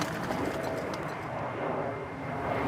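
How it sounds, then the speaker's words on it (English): British Airways airliners passing overhead near a large castle at dawn: a faint, steady distant jet rumble with soft bird calls mixed in, no talk. "the dawn chorus this morning are the Branson birds of the British Airways migrating in from the Americas."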